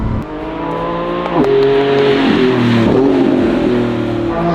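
A 1,001-horsepower race car on a private race track accelerates hard, its loud, close engine note climbing through rising gear sweeps with brief drops at each upshift, steady and continuous with no talk.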